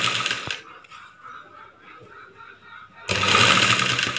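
A sewing machine stitches a pa-style blouse neck, running loud and steady at the start and again at the end, with a quieter stretch of talking between the two bursts.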